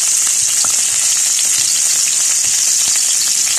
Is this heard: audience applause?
no